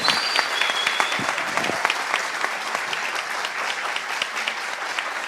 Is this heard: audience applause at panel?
yes